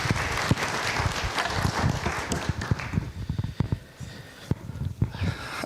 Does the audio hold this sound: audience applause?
yes